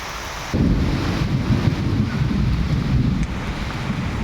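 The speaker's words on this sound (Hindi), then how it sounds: "बारिश स्टार्ट हो गई भैया।" A rain shower starts abruptly after a brief quieter moment, then keeps up a loud, even wash of falling water with a deep rumbling undertone throughout.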